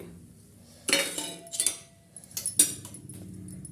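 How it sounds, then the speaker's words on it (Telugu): Peanuts tipped into puffed rice in a pan for a Telugu-style murmura mixture give a few bright clinks and rattles in separate bursts, with a faint hum underneath. "ఇదిగో పల్లీలు కూడా వేసేయాలి."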